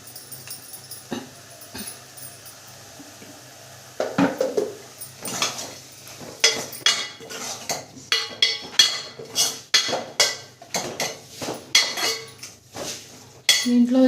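Blended tomato is stirred in a pan for egg masala curry. Close metallic scrapes and clinks come in a quiet stretch and then as a busier run of uneven strokes, with a brief higher sound near the end.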